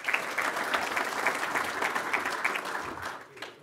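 Clapping fills the room as a golf association assembly applauds the announced committee members, an even, sustained crowd applause lasting a few seconds before thinning at the close.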